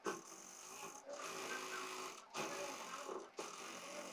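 A sewing machine stitches trouser fabric in quiet, rapid bursts, about four runs broken by brief pauses, with no talking.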